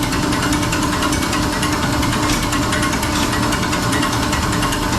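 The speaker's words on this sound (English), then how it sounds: "You'll slowly hear the pump starting to inject. Cylinder by cylinder." A fuel injection pump on a test rig, driven at about 200 RPM, chatters in a loud, dense mechanical rattle with rapid, even ticking as it injects cylinder by cylinder, steady and close throughout.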